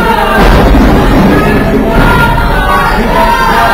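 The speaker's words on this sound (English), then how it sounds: "This crowd is starting to tell Lone Star he sucks" A loud crowd at an independent wrestling anniversary show, chanting and yelling continuously, close and dense throughout with scattered whoops and shouts.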